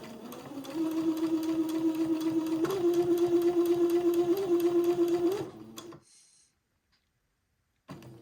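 A sewing machine stitches a slow, straight seam on a baby garment with lace, a close, steady whirring hum running for several seconds before winding down and stopping into near silence, followed by a brief light clunk.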